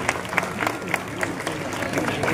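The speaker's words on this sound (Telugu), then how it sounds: "గట్టిగా చప్పట్లు కొట్టి తండ్రి గారికి స్వాగతం పలుకుదాం" A church congregation applauds to welcome the priest at a saint's feast day Mass in Samalkot, a brief burst of steady clapping from a crowd with voices mixed in.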